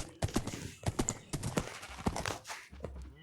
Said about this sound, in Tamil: குதிரை ரைடு. வா வா வா வா ஸ்பீடாக போ.